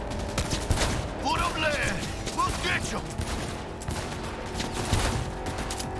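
Rapid bursts of gunfire in the Cyberpunk 2077 video game, dense volleys of shots running almost continuously, with someone talking over the shooting.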